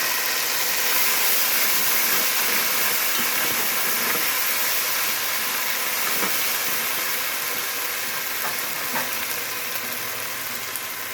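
Ginger garlic paste frying with browned onions in a pan, a steady loud sizzle and hiss running throughout with occasional small crackles.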